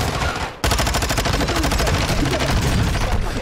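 Rapid bursts of video game gunfire from the player's weapon, a dense run of loud, closely spaced shots that starts abruptly after a brief lead-in and continues to the end.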